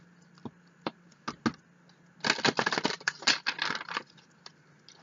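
Tarot cards being shuffled by hand, a few scattered light flicks followed by a brisk burst of riffling and snapping in the middle, close and fairly quiet with no talk.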